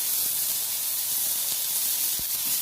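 Chopped tomatoes sizzle in a hot pan with dried chilli and fennel seeds over lowered gas, a steady, even hiss running throughout with a few faint clicks.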